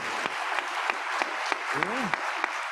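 An audience claps steadily through a university president's welcome week address, a continuous bed of applause with a brief rising vocal sound partway through.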